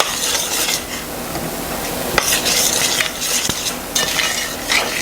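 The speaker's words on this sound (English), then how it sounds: "it's time to stir the nuts." Nuts being stirred in a pan over heat while making a pumpkin pecan cheesecake topping, a steady scraping stir with light sizzling and an occasional sharp clink of utensil on pan, close and alone.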